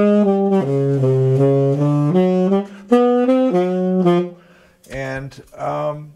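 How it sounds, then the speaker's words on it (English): A blues bass line on saxophone: a low, walking run of separate held notes in a steady rhythm, close and clear, ending with a few brief, choppier sounds. "if you were going to play a blues bass line on the saxophone, it might sound like this"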